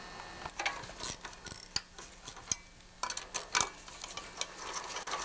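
Ratchet loosening two 10mm nuts on a vintage Honda generator, rapid close clicking bursts in short runs with brief pauses between them.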